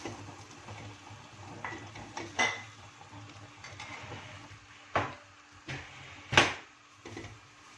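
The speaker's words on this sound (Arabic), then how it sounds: "ندي تقليبه بقى كده معاها" Grated carrots being stirred into chicken in a single pot for a quick Saudi kabsa, with scattered clinks and scrapes of a utensil against the pot over a low background, several sharper knocks standing out, and no talk.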